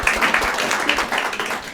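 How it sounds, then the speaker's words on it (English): Applause at a press conference after a not guilty verdict: a crowd claps steadily and fairly close, a dense patter of many hands continuing without pause. "I bet you've never heard so much applause in a press conference, have you, before?"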